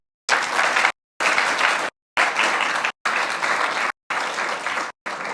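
Audience applause after a talk at the OzTek 2022 diving conference, loud broadband clapping in several sustained bursts separated by abrupt silent gaps, with no talking over it.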